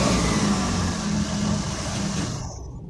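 A Maruti 800 hatchback's small engine revs steadily up close as the car is shifted into position, the hum holding for a few seconds before cutting off.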